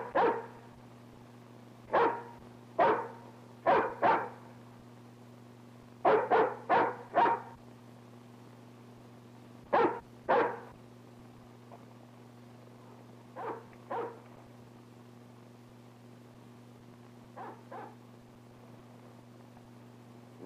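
A hound dog barks outdoors in a 1930s rural valley scene, a series of sharp single and clustered barks spaced irregularly, loud at first and trailing off fainter toward the end, with no voices.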